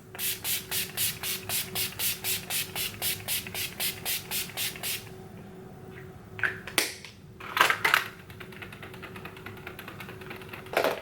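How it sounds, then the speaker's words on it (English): Rapid rhythmic pumps of Urban Decay All Nighter setting spray misted onto a face hiss in an even series, followed by a few scattered rustles and louder sprays. "set my face with my Urban Decay All Nighter spray"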